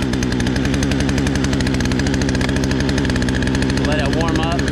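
A Poulan Craftsman chainsaw engine runs loud and close with a fast, steady buzzing rattle throughout, and someone talks briefly over it.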